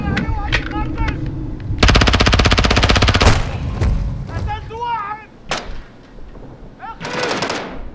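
Call of Duty: Modern Warfare II gameplay gunfire: a dense, loud burst of rapid automatic fire in the middle, with shorter shots and a final burst, over voices and game sounds.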